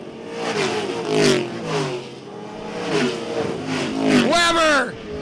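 Sportsman race cars roar around the track at Jefferson during a feature race, engines rising and sweeping past in waves under continuous excited announcer commentary.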